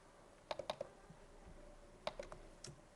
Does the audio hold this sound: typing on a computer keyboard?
yes